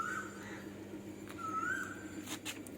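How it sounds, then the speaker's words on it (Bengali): A koel calls twice from a distance, each call a faint rising whistled note, the second longer, over a low steady background hum with no talking. "আবার এদিকে কোকিল ডাকছে বাবা"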